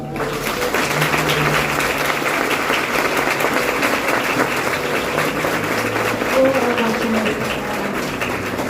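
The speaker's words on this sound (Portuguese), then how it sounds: "Aplausos, Senhor." Congregation applauding inside a church after a sermon, a steady wash of clapping from many hands throughout with some voices mixed in beneath it.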